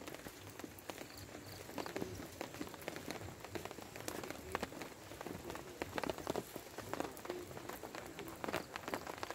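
Steady rain patters on a tent for several seconds. The drops come dense and irregular, with occasional louder taps, and no one is talking.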